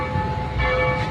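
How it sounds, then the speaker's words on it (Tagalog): A church bell tolls in a hometown setting, a sustained metallic ringing hum with steady overtones under low background rumble, heard at moderate distance without talk. "Dinig nyo yung kampana mga kaibigan."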